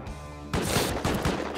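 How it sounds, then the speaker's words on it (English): Gunfire in the survival video game Rust: after a half-second of quiet hum, a loud burst of shots erupts and continues as a rapid, uneven volley that fills the rest of the moment. "I hear gunshots."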